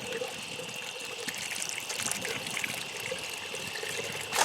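Hot beer wort poured from a one-gallon brew into a pot through a colander holding the grain bag, a steady splashing trickle of liquid, faint and continuous, with a brief louder splash at the end.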